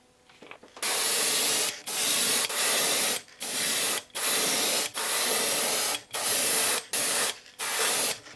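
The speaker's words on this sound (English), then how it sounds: "it's just a matter of using a clean airbrush, and it doesn't take a whole lot to give this thing a couple of coats" A clean airbrush sprays coats of isopropyl alcohol in repeated bursts of loud, close hissing, about nine sprays of roughly a second each separated by short pauses, with no talking.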